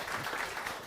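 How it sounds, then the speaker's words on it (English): A meetup audience at a Node.js developer event gives a short, faint, distant round of applause. "Big round of applause."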